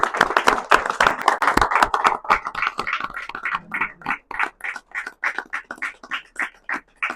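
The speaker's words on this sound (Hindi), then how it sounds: "तालियां बजती रहे।" An audience at an Indian health conference award ceremony claps loudly and densely at first, then the clapping thins into a sparse, fairly regular beat of fewer hands.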